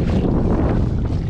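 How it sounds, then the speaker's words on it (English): Gusty wind buffets the microphone on a lake beside the docks, a loud, rough rumble that surges and dips over about a second with no voices. "The wind is kicked up."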